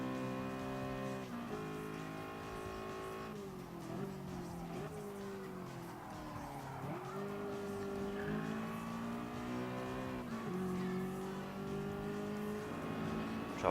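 An Audi R8 race car in Gran Turismo Sport, its engine holding a steady high drone that climbs and dips through gear changes and corners, with tire squeal, heard continuously and close.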